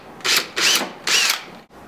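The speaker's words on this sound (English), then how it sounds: "Use a 3/16 inch bit drill pilot holes" A power drill with a 3/16 inch bit bores pilot holes in plastic, three short whirring bursts in a quick even rhythm, loud and close, then stops.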